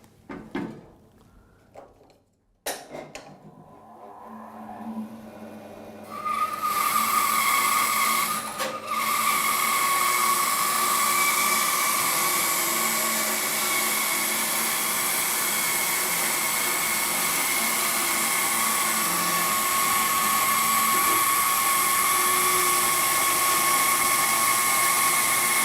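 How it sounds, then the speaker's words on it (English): After some clunks and knocks, a Record Power BS400 bandsaw with a 2 horsepower motor starts up and runs with a loud, steady whine, slicing a fine veneer from maple timber. "On the BS400 we've got a 2 horsepower motor, so you'd expect it to cut a piece of timber like this quite easily."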